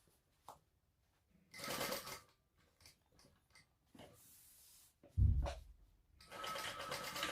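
A sewing machine runs in short bursts while stitching a tighter seam on a fabric Sunset Bag, with quiet pauses, handling clatter and a brief thump between runs.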